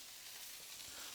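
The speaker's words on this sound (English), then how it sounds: "That is sizzling steak." Steak frying in a pan, a close, continuous crackling sizzle that holds steady and even throughout.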